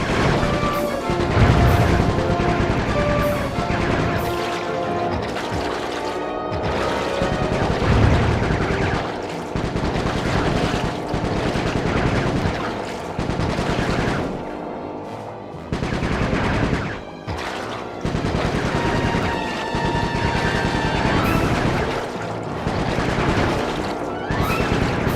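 Dense, loud gunfire rattles through a Sly 3: Honor Among Thieves battle, with rapid machine-gun bursts, crashes and booms layered almost continuously over game music.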